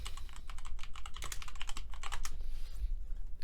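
Rapid clicking keystrokes on a QWERTY computer keyboard, close and clear, tapping in quick irregular bursts before slowing near the end.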